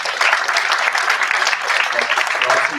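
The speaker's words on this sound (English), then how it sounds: "So let's give yourself a big applause" Graduates and guests at a management institute convocation ceremony give a loud, dense round of applause that holds steady throughout, with no clear talk above it.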